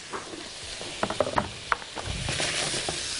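Chopped onions sizzle in a hot pan, a soft steady hiss broken by small crackles and pops as they begin to sauté.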